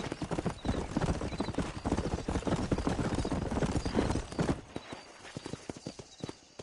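A horse gallops in Red Dead Redemption with a dense, driving run of hoofbeats that stays loud for several seconds, then thins into sparser, quieter clopping as it slows.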